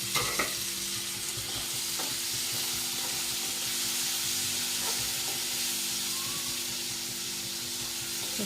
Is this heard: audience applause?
no